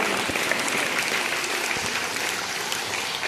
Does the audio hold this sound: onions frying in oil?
no